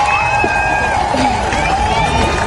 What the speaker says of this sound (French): Elle est accueillie par des applaudissements et des cris de joie.